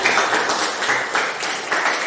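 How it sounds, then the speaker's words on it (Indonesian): Brief, fairly soft applause from a classroom audience after a student presentation, a steady patter of hands with no talking. "Oke, tepuk tangan buat kita."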